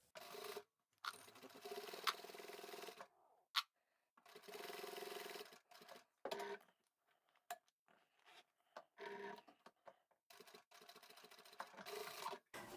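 Sewing machine topstitching the lining of a beach towel with a hidden triangle pocket, heard faintly in several stop-start runs broken by brief clicks and pauses.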